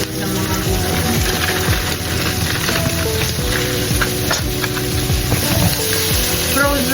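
Frozen vegetables fry in a hot pan with a loud, steady, dense sizzle and crackle that continues without a break and carries no voices.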